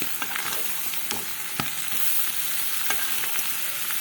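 Hot peppers fry with liver and gizzards in a pan, making a loud, steady sizzle with occasional stirring clicks and scrapes close by and no talk.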